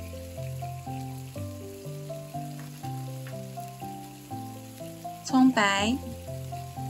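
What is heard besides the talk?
stir-frying garlic, chili rings and scallion whites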